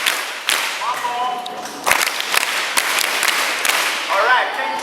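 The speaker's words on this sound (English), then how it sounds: "Clap for yourselves again" Audience applause at an outdoor peace campaign gathering in Ghana, a burst of clapping with sharp irregular claps rising and falling for several seconds, close and fairly loud, with scattered voices.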